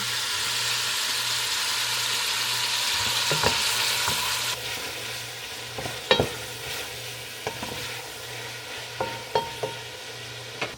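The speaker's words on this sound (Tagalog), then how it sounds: "Haluin lang natin" Onion and tomato sauté in a pan, a steady close sizzle first, then a quieter fry broken by sharp scrapes and taps of the stirring spoon in the later half.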